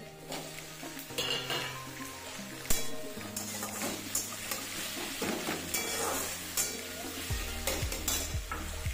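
Spice masala with chopped tomato fries and sizzles in a pan while being stirred, with scraping and clinking of a utensil against the metal, close and continuous with no talk.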